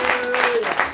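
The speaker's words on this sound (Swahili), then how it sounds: "Nashukuru Mungu mmepigia makofi." A church congregation claps together in a broad, steady burst of applause, with a voice speaking faintly over the clapping.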